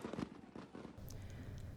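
Fireworks and firecrackers pop and crackle over a few quick bursts during a New Year's night in Hawaii, faint and distant with a low rumble beneath.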